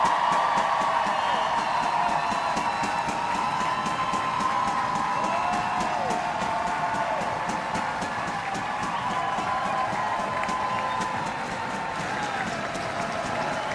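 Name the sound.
crowd applauding footballer Maren Mjelde at Kingsmeadow stadium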